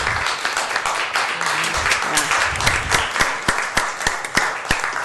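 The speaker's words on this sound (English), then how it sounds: "Let's give him a big round of applause." City council meeting audience clapping, a moderate patter of applause that thins toward the end into a few distinct, rhythmic claps from a smaller group.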